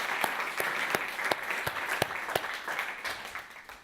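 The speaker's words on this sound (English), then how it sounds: "we can just give a round of applause to the Michelson winners" Audience applause for award winners at a welcome session: a steady wash of clapping with sharp individual claps standing out, moderately loud throughout.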